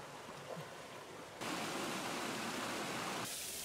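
Freshwater creek rushing on a remote tropical island, a steady broadband wash of flowing water that swells suddenly louder partway through and stays loud, close and continuous with no voices.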